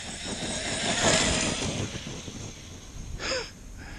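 A Traxxas-powered Arrma Granite 4x4 RC car at full throttle gives a continuous high electric motor whine with rushing tyre and wind noise, close and steady, briefly rising in pitch near the end.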